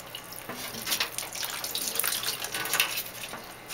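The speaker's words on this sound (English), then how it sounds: "the bubbler to make sure that it bubbles good" Water bubbles and gurgles continuously in the bubbler of a Santa Monica Filtration HOG1 upflow algae scrubber, a close, busy fizzing and splashing that swells and eases over a few seconds.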